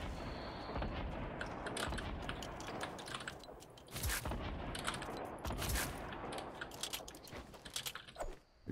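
Video game gunfire crackles in rapid, uneven bursts, faint and distant-sounding, with sharp shots clustered throughout and a few louder volleys near the middle.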